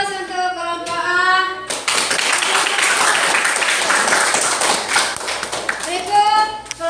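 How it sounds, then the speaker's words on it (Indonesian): A class of students bursts into applause for a group after its presentation, a loud, dense clapping lasting several seconds, framed by a teacher's voice before and after. "ya aplaus untuk kelompok A"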